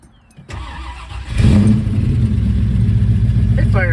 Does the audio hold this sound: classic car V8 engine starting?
yes